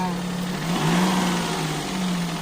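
A motorbike or car engine with a newly fitted battery revs up after starting, a steady mid-pitched drone that rises and falls close by, with voices talking over it.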